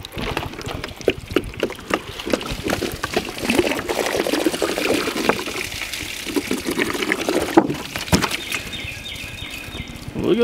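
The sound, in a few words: water being poured out of a jug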